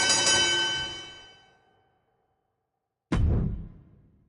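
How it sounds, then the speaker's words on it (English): Wrestling ring bell in the WWE 2K25 video game: a bright metallic clang rings out and decays, followed after a pause by a second, duller struck hit. "that's it. Ring the bell."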